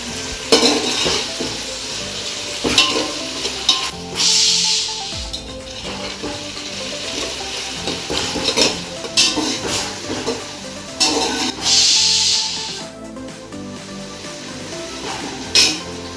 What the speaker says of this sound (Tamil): உப்பு கொஞ்சம் சேர்த்து வெங்காயம் நல்லா ப்ரௌன் ஆகட்டும்